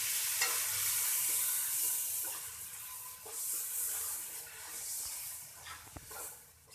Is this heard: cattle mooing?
no